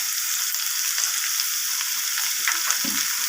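Spices, cumin powder, salt and ginger paste frying with pumpkin and potato in a pan, a steady bright sizzle running throughout, with a few soft stirring scrapes near the end and no talking.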